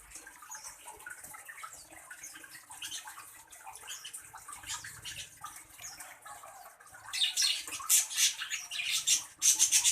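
Female bird building a nest calls with squawky chirps, moderately near, amid faint watery dripping background; calls grow louder and denser toward the end.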